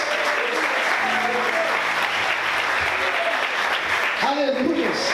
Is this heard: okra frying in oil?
no